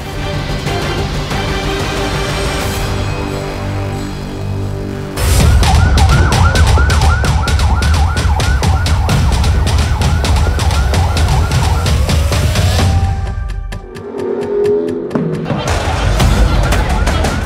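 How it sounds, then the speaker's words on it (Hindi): Ambulances with flashing lights arrive one after another outside a hospital in the West Bank, their wailing sirens loud and continuous, layered over traffic and street noise, with a brief lull near the end before the sirens rise again. "फिलिस्तीन के वेस्ट बैंक के इस अस्पताल के बाहर एक के बाद एक एम्बुलेंस फ्लैश लाइट जलाकर पहुंचती है"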